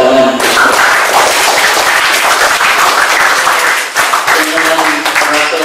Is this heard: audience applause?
yes